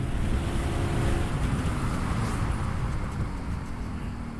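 A customised Yamaha RX 100 motorcycle cruising in fourth gear, its steady engine drone buried under heavy rushing wind noise that holds constant and close throughout.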